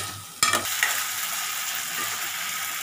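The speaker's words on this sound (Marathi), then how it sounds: "अजून आपण 2 मिनिटं त्याला परतून घेऊया" Onion and tomato sautéing in a pan for chole, with a soft continuous sizzle and a few stirring scrapes near the start, no talk.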